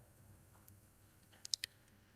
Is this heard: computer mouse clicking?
yes